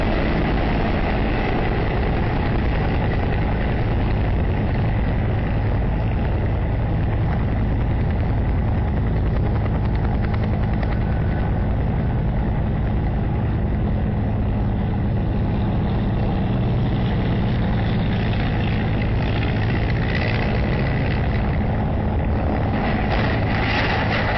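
Helicopter landing with a Cessna light aircraft approaching close behind, a wake turbulence crash scene; a steady, loud engine and rotor drone with rumbling low end holds continuously throughout, with no talking.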